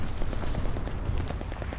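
Shotgun blasts in a video game, from an Overkill-class loadout, come as dense, loud, rapid booms layered over continuous battle noise, with no pause between them.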